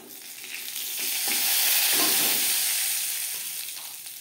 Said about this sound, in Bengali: তেলটা গরম হয়ে গেছে, এবার দিয়ে দেবো হিং।